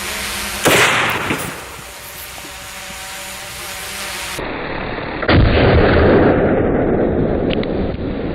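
A .50 caliber rifle fires at an outdoor range, one loud close gunshot with a sharp crack and long rolling echo, then a second heavy boom a few seconds later.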